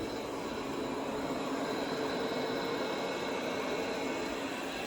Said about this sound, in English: It's just got a nice, vacuuming sound.